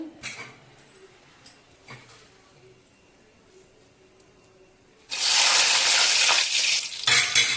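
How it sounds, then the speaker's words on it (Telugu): Quiet kitchen noises at first, then a sudden loud burst of sizzling and spluttering as mustard seeds and dried red chilies hit hot oil for a rasam tempering, continuing strongly. "ఎండుమిరపకాయలు, కొద్దిగా ఆవాలు వేస్తాను చూడండి. చూడండి చిట్ట పట్ట అంటున్నాయి."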